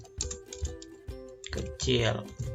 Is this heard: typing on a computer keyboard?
yes